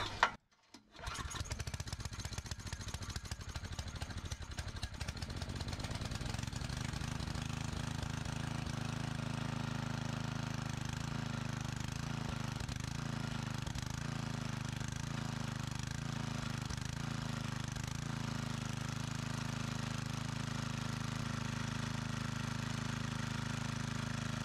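A pull-start engine, probably a generator, fires after a short pull and settles into a steady, close mid-pitched idle that holds unchanged to the end. There is no talk.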